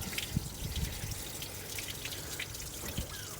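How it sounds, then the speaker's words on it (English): Rusty coolant water fills and spills over the header tank of a rotten Citroen C1, a steady close trickle and drip under a constant watery wash with no talking. "It's filling up the old header now and overflowing that as well"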